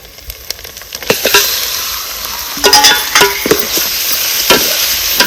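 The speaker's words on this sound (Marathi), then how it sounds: "आता ह्याच्यामध्ये आपण हळद मीठ लावून घेतलं होतं ना हे मटण ह्याच्यात टाकायचं" Marinated mutton with turmeric and salt dropped into a pan of roasted garlic and coconut, sizzling steadily in hot oil while a spoon stirs and scrapes with intermittent clinks, close and fairly loud.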